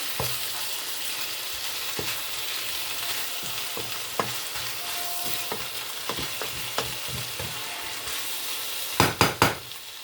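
Green beans and garlic fry together in a pan, giving a constant sizzle broken by scattered stirring scrapes and utensil knocks, with a quick cluster of sharp clacks near the end.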